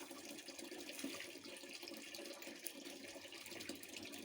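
Water streams steadily onto potted garden plants being watered by hand, a continuous close splashing and gushing that holds its level throughout with no one speaking.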